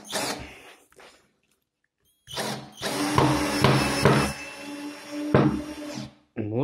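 A DEKO 12V cordless screwdriver runs in several bursts, whirring with a whining motor pitch and brief pauses between runs, close to the microphone.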